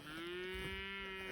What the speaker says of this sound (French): Là il y a les veaux.